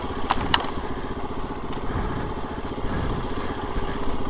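A 2024 KTM 350 EXC-F four-stroke dirt bike engine drones steadily and close while riding, with a couple of sharp clicks near the start and a slight swell toward the end.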